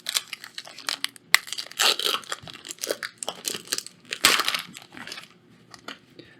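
A Magic: The Gathering Dominaria United booster pack is ripped open close by, with sharp crinkling foil tears and rustles that come in irregular bursts and snaps.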